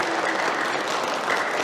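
Dense applause from a church congregation, loud and sustained throughout with no breaks.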